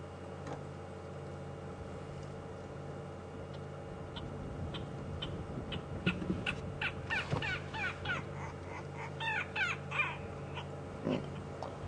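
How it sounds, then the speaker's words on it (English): Harsh, nasal grey go-away bird calls repeat in irregular bursts from a treetop at a distance, over a low steady background hum, at Djuma Game Reserve, South Africa. "Grey lories are back around making noise at the top of the tree."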